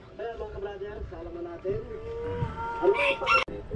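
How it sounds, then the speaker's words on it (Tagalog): Loud honking calls from a goose ring out close by, repeated several times, with a person talking in Filipino alongside them. "Yan ang gansa mga katakbo."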